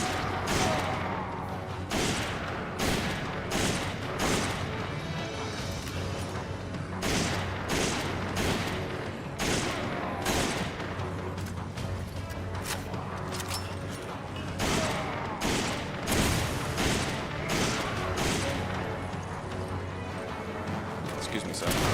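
Rapid bursts of gunfire in Resident Evil 5, loud dense volleys of shots and booms that keep coming across the stretch, with people talking over the action.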